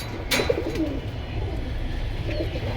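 Pigeons cooing softly at close range among a group of male and female birds, a few low murmuring coos over steady background noise.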